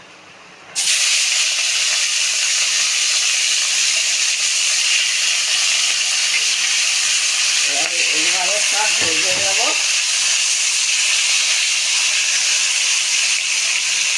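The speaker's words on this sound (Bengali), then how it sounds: "তেলটা গরম হয়ে গেছে এবার আমি মাছের মাথাটা দিয়ে দেবো" Hilsa fish head frying in hot oil, a steady, loud sizzling hiss that starts abruptly and holds for the whole stretch, with a brief voice partway through.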